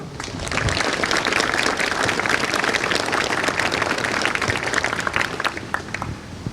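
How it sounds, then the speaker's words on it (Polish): A crowd applauds continuously at a first-year students' oath ceremony at a uniformed-services school in Gniezno, dense clapping filling the space at moderate loudness before thinning slightly toward the end. "Dlatego kadeci, wielkie brawa dla waszych rodziców."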